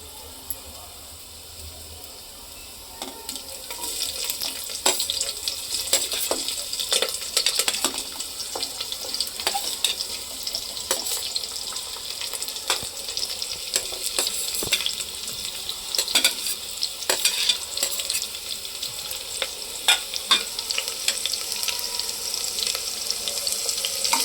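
Onion sizzles and sputters in hot oil while being sautéed for khichdi, a bright crackling hiss that swells after a quieter start and continues with sharp pops and occasional stirring.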